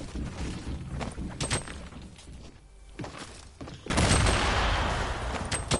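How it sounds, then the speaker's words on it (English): Gunfire in a Fortnite match: scattered sharp cracks and thuds early on, then a loud, sustained burst of shots toward the end, close and heavy. "They're shooting at me."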